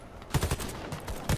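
Gunfire in the video game Warface on PS4, a short gun heard in a few bursts of loud shots spread across a brief stretch, alone without any talk.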